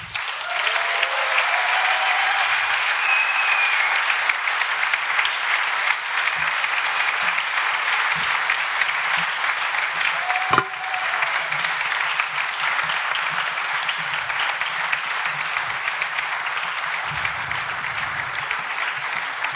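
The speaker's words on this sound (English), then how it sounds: "have a huge applause for them for all their hard work" Sustained applause from an audience honouring a team at the Kickstart Innovation opening ceremony, steady, full clapping that continues for about twenty seconds with a few brief whoops.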